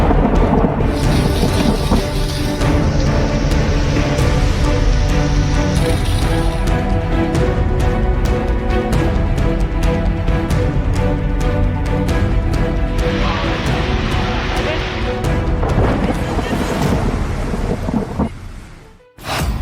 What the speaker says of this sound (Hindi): पहाड़ पर बारिश बेशुमार।